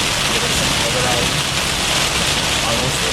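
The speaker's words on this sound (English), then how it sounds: "Getting some heavy rain." Heavy rain pours down during a Florida thunderstorm, a dense, loud, unbroken hiss of drops hitting surfaces close by.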